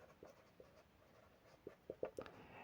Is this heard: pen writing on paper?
yes